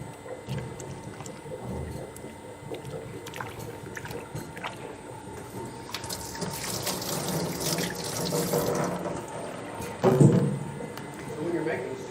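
Tap water runs into a sink while a utensil is washed during gelato making, a steady splashing hiss that grows louder toward the end, with a clatter near the close and a person talking over it.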